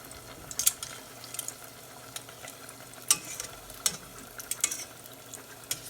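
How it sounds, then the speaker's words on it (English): Sweet potato balls frying in a pan, with soft irregular crackles and sizzling pops over a quiet, steady hiss. "we're just gonna fry this until brown"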